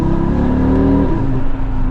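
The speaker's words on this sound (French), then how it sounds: "la sonorité du 5 cylindres est bel et bien présente" A five-cylinder car engine revs up sharply on a downshift, a loud rising engine note with a brief dip and recovery, close by with no talk.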